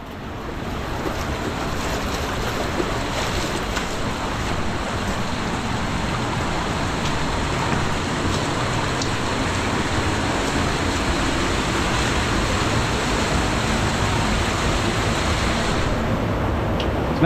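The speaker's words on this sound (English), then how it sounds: "Land of these little waterfalls." Small waterfalls in the Grand Canyon rushing in a steady, dense roar of falling water that stays constant and close throughout, with no voices.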